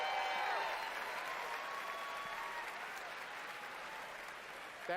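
A large audience cheers and applauds throughout at the Bethesda E3 2019 conference, a dense, steady roar of clapping and shouting that stays loud and continuous for several seconds.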